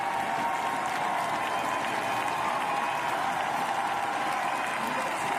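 Spectators applauding a finisher at the Paris 2024 Paralympic marathon, a dense, steady roar of clapping and crowd noise that holds at an even loudness throughout.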